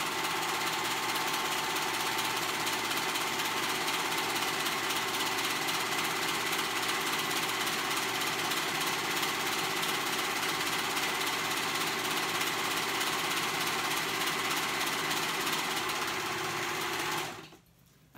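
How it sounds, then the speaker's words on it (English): A sewing machine stitches the outer seam of a child's pajama pant leg, right sides together, with a steady, close whirring hum that runs unbroken for about seventeen seconds and then stops abruptly. No one speaks. "We're sewing that out seam right there."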